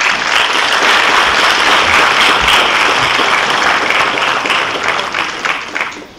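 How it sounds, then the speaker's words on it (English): A large symposium audience at a European pharmacy students' assembly breaks into loud, sustained applause welcoming a speaker, steady dense clapping that fades slightly toward the end. "and warm applause."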